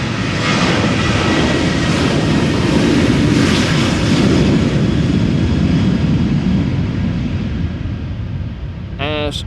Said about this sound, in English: KLM in the SkyTeam livery also taking off to Manchester.